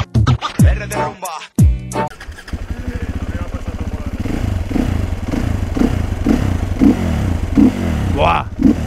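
A Sherco 500cc supermotard motorcycle fitted with a dB killer revs hard and sustains a loud, close engine roar with repeated throttle surges. A voice briefly exclaims at the start.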